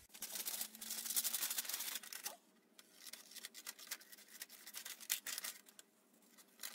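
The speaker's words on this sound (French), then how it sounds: "Si on prend cette manche, je vais la découper rapidement." Scissors snipping through a cotton T-shirt sleeve during garment pattern work: a close, quiet run of crisp repeated cuts in irregular rhythm, with brief pauses between clusters of snips.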